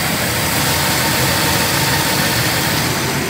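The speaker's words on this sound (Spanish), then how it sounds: "Ahí prendió, pero vimos que cuando se apaga el relé se caía y está vibrando mucho." A Chevrolet Cheyenne pickup engine runs at idle, loud and steady, with a rough vibrating rumble; the truck is losing power and won't accelerate despite two replaced fuel pumps. No talking.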